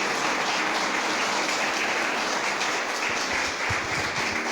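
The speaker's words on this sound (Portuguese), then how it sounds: "Dê um aplauso à palavra do Senhor." A church congregation applauds during a celebration service, a broad sustained wash of clapping filling the space, with a few louder individual claps standing out near the end.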